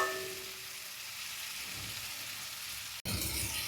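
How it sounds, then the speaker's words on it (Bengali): Fish curry ingredients sautéing in mustard oil in a pan for a Bengali rui fish curry, giving a steady close sizzle and crackle throughout, with a brief dropout near the end before the sizzling resumes. "ভালো করে এটা কষানো হচ্ছে। দেখুন কেমন তেল ছাড়ছে"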